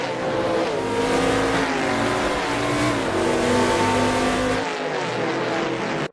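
Race car engine from a NASCAR Cup-style racing video game at Road America, Dale Earnhardt's car drifting: a loud, sustained revving roar with shifting harmonic pitch and faint tire squeal, steady throughout before cutting off at the end.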